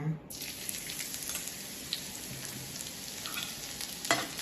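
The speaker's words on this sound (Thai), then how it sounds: "น้ำมันร้อนแล้วเราก็ใส่กระเทียมสับลงไปนะคะ" Minced garlic hits hot vegetable oil in a pan, a soft, steady sizzling hiss that starts abruptly and continues evenly at low volume, with a few faint clinks and a brief low hum.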